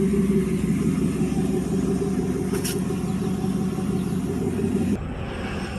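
A 2001 Dodge truck on new Travel Star EcoPath 265/75R16 all-terrain tires cruises at highway speed, a steady low engine and road rumble with a continuous hum and tire drone heard from inside the cab, dropping slightly in level near the end.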